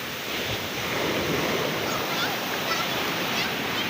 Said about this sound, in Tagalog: Para bang hinahabol ka ng napakalalakas na alon.